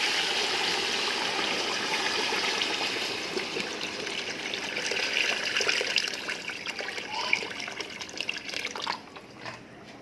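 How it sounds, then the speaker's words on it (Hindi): About 7 to 8 litres of water pours steadily into a cooking pot in a continuous gushing stream, splashing for several seconds before tapering off. "तो अब मैं इसके अंदर डालूंगी तकरीबन 7 से 8 लीटर पानी।"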